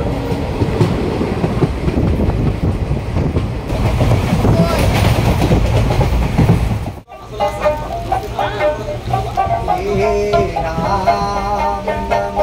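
A train runs along the rails near Chilapathar railway station, making a loud, steady rumbling clatter for about seven seconds. After a brief dip, the noise gives way to a tonal, harmonic sound.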